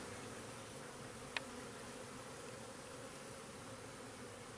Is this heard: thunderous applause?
no